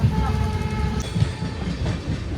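Train cars rolling along the rails near Siliguri, a steady close rumble with rhythmic clacking under the wheels, heard from on board.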